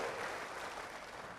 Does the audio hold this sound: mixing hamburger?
no